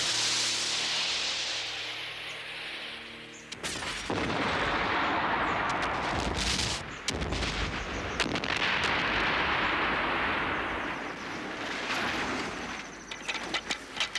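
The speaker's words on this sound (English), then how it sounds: "The rocket was all right, the blast didn't do a great deal." Model rocket launch blast staged for a low-budget film: a sharp explosive burst followed by crackling, roaring bursts and sputters that rise and fall for over ten seconds, fairly loud and close.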